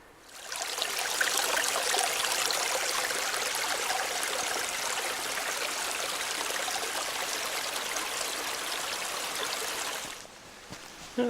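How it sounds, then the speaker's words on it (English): Steady, close rushing and trickling of a small creek fills the clip continuously, dropping away abruptly near the end. "runoff here in a little creek"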